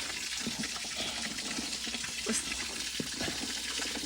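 Giant bamboo shoots are placed into water to soak, making a steady wash of sloshing and trickling water with a few soft knocks. No one speaks.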